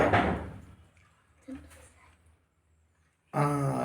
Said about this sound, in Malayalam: ഇടയ്ക്ക് ആരോ രണ്ട് കൊട്ടു കൊട്ടി കേട്ടോ